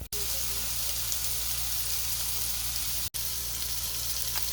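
Squash, chilies and green onion sizzle in a pan, a dense continuous frying hiss broken by two short cuts, steady and close with no voices.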